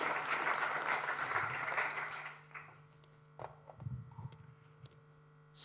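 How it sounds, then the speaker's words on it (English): An audience at a React London meetup applauds a speaker, a moderate round of clapping that fades after about two and a half seconds, leaving a few scattered claps over a steady mains hum. "Everyone give Jacob a round of applause."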